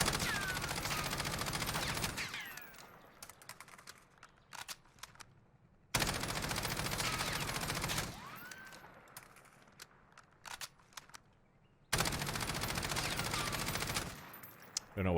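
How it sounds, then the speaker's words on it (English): Stock Ram 7 assault rifle with a 30-round magazine and green tracers firing in Warzone: three sustained full-auto bursts of about two seconds each, loud and close, separated by quieter gaps with scattered shots and game noise. "This is going to be the stock Ram 7."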